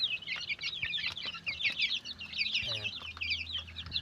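Month-old free-range Darag native chickens cluck and chirp busily and continuously nearby, a dense, lively flock chatter with a brief voice speaking over it.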